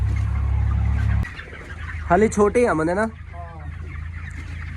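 Young broiler chicks on a poultry farm cluck and peep in a quick burst of several calls over a low steady hum, with someone speaking briefly nearby.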